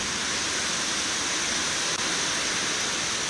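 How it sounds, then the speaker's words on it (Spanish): Heavy rain pours in a dense, steady hiss that fills the whole stretch without pause, loud and close. "por esta lluvia."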